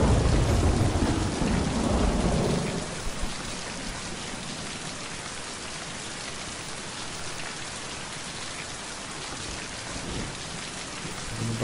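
Steady heavy rainfall in the video game Mind Path to Thalamus hisses throughout, with a louder rumbling, rain-on-surface burst in the first few seconds before settling into an even downpour.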